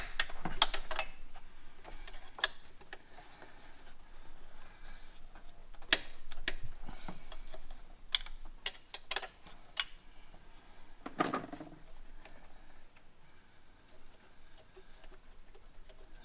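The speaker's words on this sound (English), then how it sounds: "So I'm using wrenches" Wrenches loosening bolts on a Ford 6.0 diesel alternator, scattered sharp metallic clicks and taps, some close and some faint, irregularly spaced over a quiet background.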